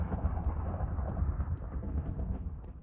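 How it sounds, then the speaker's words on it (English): A thunderstorm rolls in the video game Minecraft, heard from underground as a continuous low, rumbling roar of thunder at moderate loudness with no voices. "Thunderstorm."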